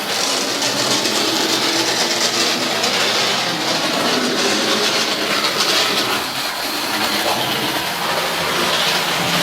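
A toy train set runs continuously around its track, giving a steady, noisy whirring rattle with faint clicking, loud and close throughout with no pauses or talk.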